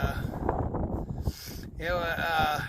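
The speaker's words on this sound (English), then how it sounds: "The wind is something else today" Strong gusting wind buffets the microphone while tarps are pulled off and folded at a truck unloading site, a broad steady roar rising into a louder rush in the last second, with a voice talking over parts of it.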